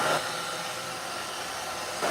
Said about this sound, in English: I think this should be one of the only times we'll actually have to use the hairdryer